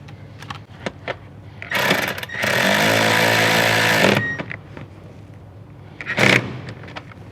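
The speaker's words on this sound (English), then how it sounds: "we can grab our 10mm socket and tighten the bolt down" A powered 10mm socket buzzes for about two seconds as it tightens a ground-wire bolt in a Toyota 4Runner, with scattered clicks and metallic handling noises before and after.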